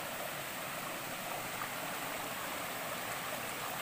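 Steady broadband rush of a mountain river running nearby, continuous and even with no voices.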